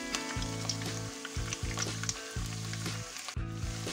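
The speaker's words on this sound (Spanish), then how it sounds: "Aquí en el aceite donde hemos hecho las costillas he puesto la cebolla, he puesto el ajo" Onion and garlic sizzle steadily in oil left from cooking pork ribs, the start of a sofrito, loud and close, with a low recurring hum and occasional stirring.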